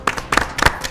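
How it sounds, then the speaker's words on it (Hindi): Clapping from participants at a history quiz show, a few bursts of hand claps in quick succession, close and loud, with no talk over them. "उनके लिए जोरदार तालियां।"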